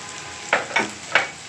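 Garlic, onion and tomato frying in oil for a tilapia fish bhuna, with a soft steady sizzle broken by three distinct spatula scrapes through the pan, close and alone.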